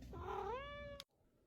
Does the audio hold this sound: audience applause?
no